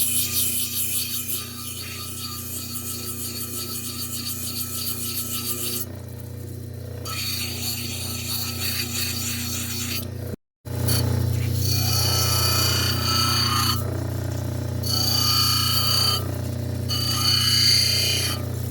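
Fordite, layered automotive paint, being ground smooth against spinning grinding wheels, a steady close rasping grind that runs continuously with a brief break near the middle, no talk.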